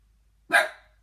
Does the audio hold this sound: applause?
no